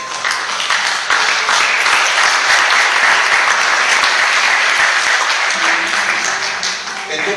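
A church congregation claps loudly and continuously after a prayer. The dense, close applause holds steady throughout and tapers slightly near the end, with some voices mixed in.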